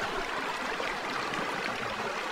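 A small provincial stream runs with a soft, continuous gurgling trickle of water, steady and fairly close, with no voices.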